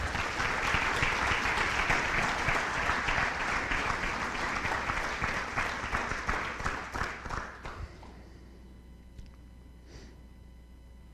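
A hall of fame induction ceremony audience at an athletic event gives a dense, steady round of applause that carries for about eight seconds, then thins to scattered claps and fades into a quiet room.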